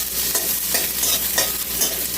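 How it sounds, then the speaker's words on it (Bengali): Sliced onions fry in hot oil until browned for birista, a close, steady sizzle broken by regular scraping stirs, with no voices. "পেঁয়াজটা কিন্তু আমার লালচে লালচে করে ভাজা হচ্ছে।"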